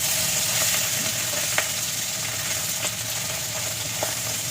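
Bata fish frying in oil in a home kitchen, a steady continuous hiss and sizzle with occasional small pops and crackles, close and even throughout, with no voices.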